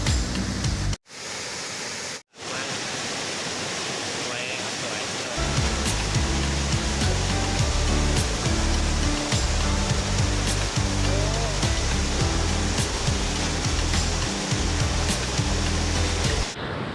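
Steady, loud rushing of the Khlong Sai waterfall in Chaiyaphum, Thailand fills the scene, with two brief dropouts early and a heavier low roar building after a few seconds.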